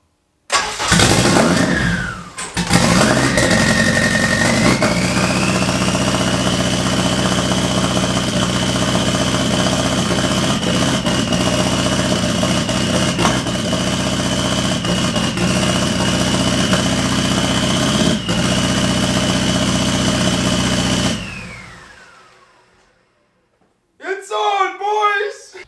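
Car engine that has just had a ground wire added cranks and catches, then runs at a steady loud idle for about twenty seconds before shutting off, with a voice talking briefly at the end.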